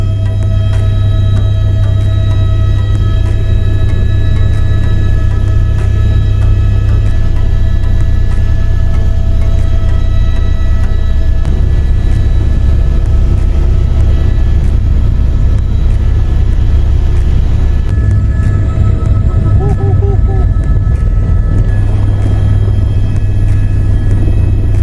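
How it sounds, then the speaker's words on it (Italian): Steady, loud droning rumble of a helicopter in flight carrying a network cabinet up to the Rifugio Laghi Gemelli mountain hut, a continuous low engine and rotor hum filling the whole span with no talk. "Fantastico il volo in elicottero"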